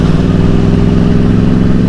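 A 2012 Yamaha R1 Big Bang motorcycle engine runs with a steady, loud, close rumble, holding an even pulsing note throughout with no talking.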